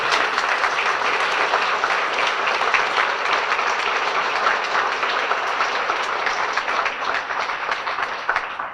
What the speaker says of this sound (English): Let's give another round of applause to Adam.